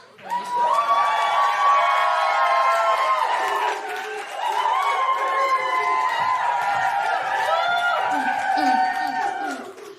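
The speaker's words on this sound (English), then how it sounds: "Please clap, whoop, cheer." Comedy club audience cheering and whooping loudly, with dense crowd noise and shouts sustained almost throughout, dipping briefly midway before swelling again.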